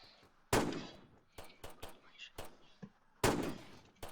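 Gunfire in the Roblox game Fortline: two loud, sharp blasts a few seconds apart, with a scatter of quicker, quieter shots in between.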